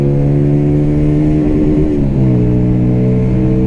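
A CMC Buccaneer motorcycle engine holds a high, strained rev near its 9000 RPM limiter, the steady buzzing pitch dipping and wavering briefly before settling again, loud and close.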